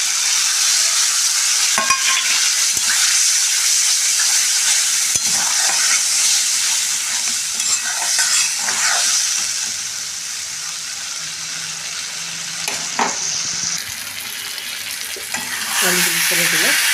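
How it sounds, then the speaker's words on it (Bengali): Hot water poured into spices frying in a pan for a potato and fish-head curry gives a loud sustained sizzle, with stirring clinks and scrapes, easing then flaring again near the end. "দিচ্ছি গরম জল।"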